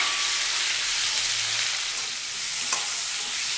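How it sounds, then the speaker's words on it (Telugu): Tomato pieces fry in oil for a tomato peanut chutney, giving a loud, close, constant hissing sizzle with a slight dip midway and no voices. "ఇదే ఆయిల్లో ఇలా టమాటా ముక్కలు కూడా వేసేసుకోవాలి."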